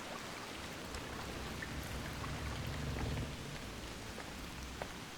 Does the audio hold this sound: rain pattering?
yes